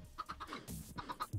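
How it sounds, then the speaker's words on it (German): Chickens clucking in the Minecraft video game, several short repeated clucks in an uneven rhythm, fairly quiet and close, with no talking over them. "Ich hab Hühnerzucht."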